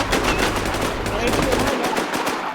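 Rapid gunfire in the video game Infestation rattles out as a dense, loud burst of automatic shots in quick succession, heavy and continuous across the short span.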